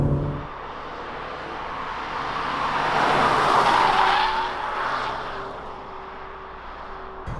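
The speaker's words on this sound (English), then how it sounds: "it's quite pleasant to be driving this Cadillac" A 2020 Cadillac CT4 with a 2-liter turbo engine is driven on the road, its engine and tire noise swelling to a strong mid-clip peak before easing back to a steady hum, with no talk.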